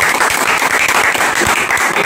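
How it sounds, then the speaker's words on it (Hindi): Steady applause from a crowd at a mobile phone repair training institute, dense and continuous with no break, filling the whole stretch without speech. "इनके लिए फिर से एक ताली हो जाए।"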